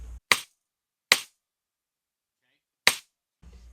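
An acoustic snare drum layered with a second sound for a hip hop backbeat, three sharp, snappy hits spaced apart with silence between them, fairly quiet overall.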